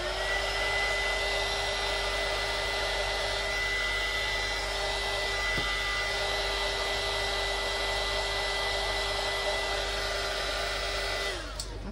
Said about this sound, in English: Let me just dry that little bit there.